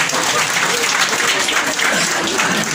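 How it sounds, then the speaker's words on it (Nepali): Steady audience applause at a fire safety talk by a fire station officer, dense and continuous clapping from many hands filling the whole stretch without pause. "सङ्गीता राईको लागि ताली तपाईँलाई"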